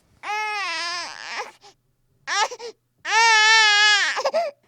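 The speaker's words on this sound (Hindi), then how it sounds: "वहां से एक बच्चे की रोने की आवाज आती है" A baby cries in loud, drawn-out wails, three bursts with short pauses between them, close and unaccompanied.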